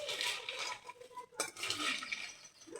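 Fasting chivda of nylon poha and sabudana being stirred and mixed in a pan, giving a steady, close scraping and clinking of a spoon against metal with light rustling, continuous and fairly loud, no voices.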